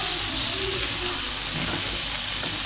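Mushrooms frying in butter in a pan, giving a steady, dense sizzle that holds at an even level throughout with no pauses.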